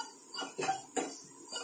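A spoon stirs red chilli and garam masala in a pan while preparing black chickpeas, making a few close scraping and clinking strokes against the metal with no speech.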